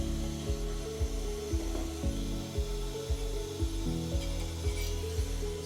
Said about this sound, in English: start with a T-handle, and you're going to want to remove your rotor bolt